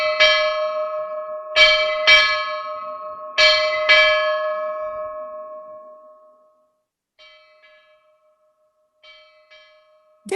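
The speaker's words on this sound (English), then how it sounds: "Will you strike 8 bells, mister?" A ship's bell rings out in paired strikes, clear ringing tones decaying between pairs, followed by faint distant echoes and quiet.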